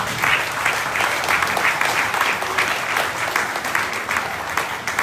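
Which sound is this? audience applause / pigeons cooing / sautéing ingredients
audience applause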